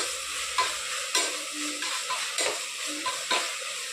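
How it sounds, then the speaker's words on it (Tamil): Tomato, onion, garlic and curry leaves sautéing in a pan for mutton kuzhambu, a steady sizzling hiss with regular scraping stirs about every half second, close and with no voices. "கருவேப்பிலை போட்டு தக்காளி வெங்காயம் எல்லாம் நல்லா வதக்கணும்"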